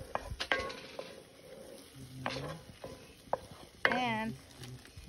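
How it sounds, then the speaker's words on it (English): Food is stirred in a pan over a campsite fire while Persian mirza ghassemi is being made, with sporadic scrapes and clinks, a faint sizzle underneath and brief bird-like chirps in the background. "stir it."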